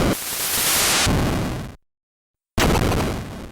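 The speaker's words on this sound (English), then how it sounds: "The missile launches and makes an explosion sound off screen a moment later." A missile explosion going off offscreen in the NES-era game EarthBound Beginnings, heard as a loud burst of harsh static-like noise that cuts to sudden silence and then resumes as a second noisy blast.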